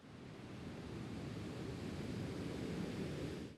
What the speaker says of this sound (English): And here is, last but not least, is ambient sound from a beach